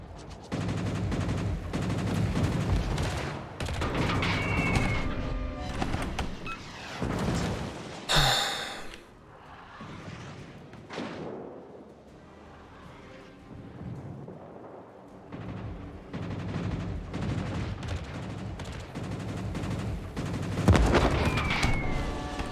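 Ranked naval battle game with a Z-31 destroyer firing on a battleship: booming, rumbling gun salvos and thunderous blasts recur over a long stretch, loud and heavy, with sighs and breaths in between.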